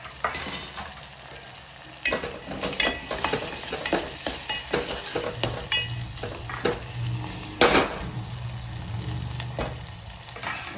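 Tomatoes frying with green onion in a pan for a sabji, a steady close sizzle with repeated clanking, scraping stirs of a spoon against the metal, no voices.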